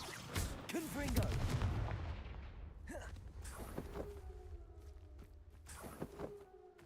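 The Confringo blasting spell in Hogwarts Legacy goes off with a few sharp booming blasts and rumbling impacts, followed by crackling magical hums and lighter thuds.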